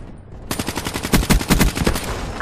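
A rapid burst of automatic gunfire in Black Ops 3, loud and close, bursting in suddenly after a quiet half second and running for nearly two seconds.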